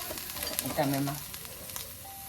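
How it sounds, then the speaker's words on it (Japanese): Beef fat sizzles and crackles in a hot pan as ingredients are stir-fried in a home kitchen, a soft steady frying hiss at moderate distance with no speech. "炒めます。"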